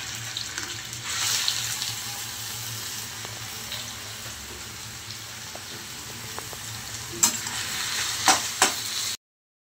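Squeezed bottle gourd goes into a pan on the stove, giving a steady wet sizzling and hissing with a low hum beneath and a few soft clinks near the end.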